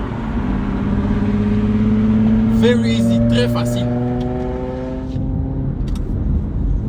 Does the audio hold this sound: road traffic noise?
yes